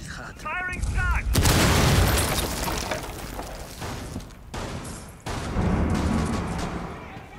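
Rapid gunfire and booming blasts in a Rainbow Six Siege match, loud bursts broken by short pauses, with a brief electronic chirp near the start.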